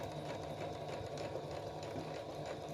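Sewing machine stitching quilt binding with a normal foot, a steady fast mechanical whirr with rapid needle chatter, close and fairly quiet, no talking.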